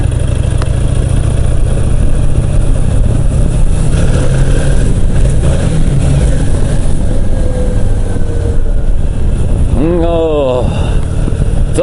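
A Kawasaki Vulcan 800 motorcycle being ridden, its engine droning loud and steady with heavy wind rush throughout, and a rising-and-falling rev sweep near the end.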